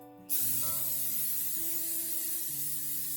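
A steady, close hiss of aerosol cooking spray coating a springform pan starts abruptly and continues unbroken for a few seconds, with faint background music.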